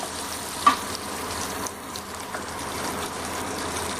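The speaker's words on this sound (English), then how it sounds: "Heated my pan and taken 2 tablespoons of butter." Butter sizzles steadily in a heated pan while Mumbai street-style pav bhaji is being made, a soft continuous frying hiss with a brief clink near the start and no talking.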